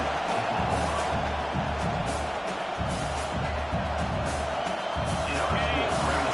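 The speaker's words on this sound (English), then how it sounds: "Decibels rising as the crowd gets behind this defense on third down" Football stadium crowd on a third down, a dense steady roar of many voices filling the air, with indistinct chatter and sporadic shouts mixed in, holding loud throughout.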